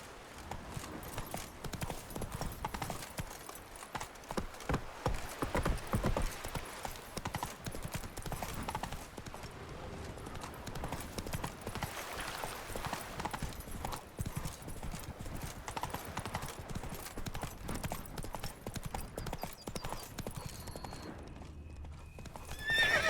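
A horse in The Witcher 3 gallops with continuous rhythmic hoofbeats and neighs now and then, all fairly faint and steady across the whole stretch.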